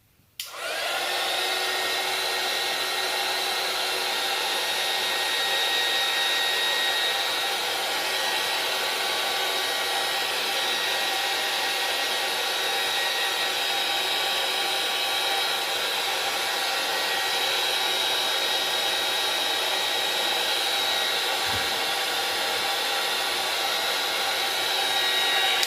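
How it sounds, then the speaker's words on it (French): A heat gun blows steadily on polyurethane resin, giving a loud, continuous whirring airflow hiss that starts abruptly and runs unbroken for the whole stretch, with no talk over it. "un petit coup de heat gun"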